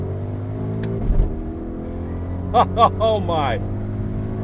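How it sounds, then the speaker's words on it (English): The 2023 Audi RSQ8 engine drones steadily from inside the cabin, with brief rising blips as the paddles trigger quick downshifts, while a voice briefly reacts. "I'll operate these dinky little paddles. Quick downshifts."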